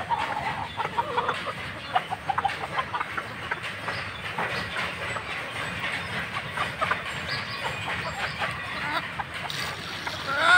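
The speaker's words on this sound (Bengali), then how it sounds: "দেশি মুরগি দেখেন কি অবস্থা, কত বড় মুরগি, কালো মুরগিটা" Desi chickens, including a large black hen, cluck in soft, scattered bursts at moderate distance over a constant background rumble, with occasional faint voices nearby.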